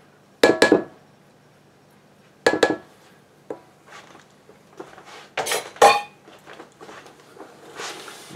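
Bread dough being scraped off a mixing bowl for an 1893 recipe, heard as sharp clinks and scrapes of a utensil against the bowl in several separate strokes with quieter shuffling between, close by.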